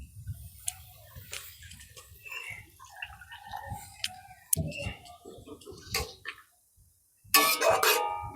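In a kitchen, quiet clicks and utensil taps give way to a short, loud splash of water poured into the pot of bitter pointed gourd leaf chorchori.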